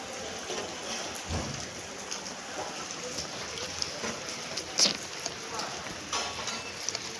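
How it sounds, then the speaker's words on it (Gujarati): Light rain patters softly and steadily, with a few faint drops and knocks standing out against the continuous gentle hiss. "વરસાદ તો હજી થોડો થોડો ચાલુ જ છે"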